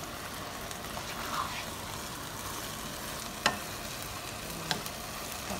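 Meat, onion, garlic and green pepper dry-roast in a pan without oil, giving a faint steady sizzle with a couple of soft clicks from stirring.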